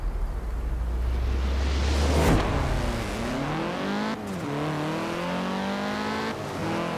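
A Ford Focus engine revs and races in Forza Horizon 4, with a deep low drone that gives way to rising and falling gear-change whines. The engine stays loud and steady throughout, and no one speaks.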